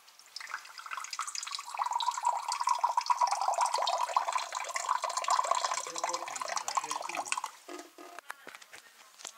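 Water pours steadily into a drinking glass for several seconds, a rising liquid gurgle heard close and alone, ending with a few scattered clinks and drips.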